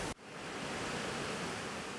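Stream water rushing along the Hongryudong valley trail in spring, a steady, full broadband roar that holds continuously after a brief dip at the start, close and fairly loud with no voices.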